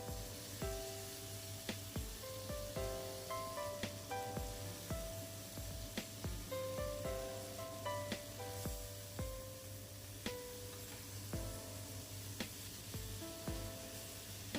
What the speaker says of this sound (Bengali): দিয়ে কেটে রাখা টমেটোগুলো এর মধ্যে দিয়ে দিলাম